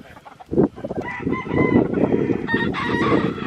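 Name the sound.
fighting rooster crowing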